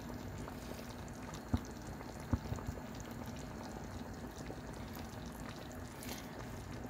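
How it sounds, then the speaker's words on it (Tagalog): A pot of water with onion and lemon in it boils steadily at low volume, giving a soft continuous bubbling hiss with a few faint pops and clicks. "Dahil habang kumukulo yan, ay naluluto na rin yung sibuyas at lemon."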